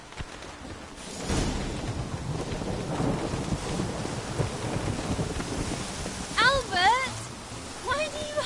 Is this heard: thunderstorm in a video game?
yes